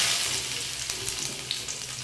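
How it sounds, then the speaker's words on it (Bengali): Chopped ginger fries in oil in a wok, making a steady, close, bright sizzle and hiss with faint crackles and no voices. "কুচিয়ে রাখা আদাটা লাল লাল করে ভেজে নেব"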